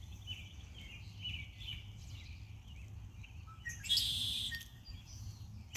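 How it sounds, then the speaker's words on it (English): A red-winged blackbird sings outdoors, brief high chirps and a louder buzzy trill near the end over steady low background rumble. "That's our red-winged blackbird."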